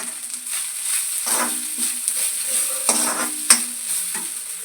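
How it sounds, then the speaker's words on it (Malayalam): Grated coconut fries with cashews and raisins in a pan, giving a soft continuous sizzle. A spoon scrapes and stirs it in several short, clattering bursts, with no talking. "അതിനകത്തോട്ട് തേങ്ങ ഇട്ട് കൊടുക്കാം"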